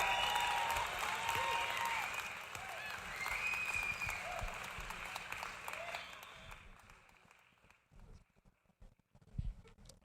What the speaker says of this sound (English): Please put your hands together for yourself even as we get this exercise done